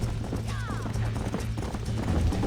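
Horse hooves clip-clopping at a gallop in the Red Dead Redemption western video game, a steady rhythmic pounding under a low engine-like game drone, with a brief whinny-like squeal early on.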